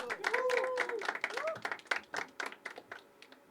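An audience at a poetry open mic claps for the next performer, a burst of quick overlapping handclaps that thins out into scattered claps, with a voice talking over the start.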